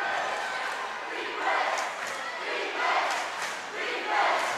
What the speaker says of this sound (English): You can hear the crowd. They are into it.